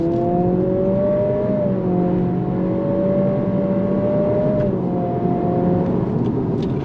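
A 2023 Acura Integra in sport mode with the dynamic mode selector accelerates hard, engine note climbing steadily through simulated gear steps, loud, close and continuous from inside the cabin.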